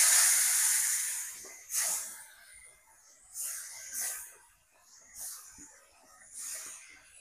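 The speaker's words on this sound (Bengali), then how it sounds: "কড়াইয়ার তেল ভালোভাবে গরম হয়েছে, হলুদ লবণ মাখা মাছ দিয়ে দিলাম" Singh catfish coated with turmeric and salt hits hot oil in a kadai, starting with a loud hiss that fades, then several separate bursts of sizzling as more pieces drop in, close and clear.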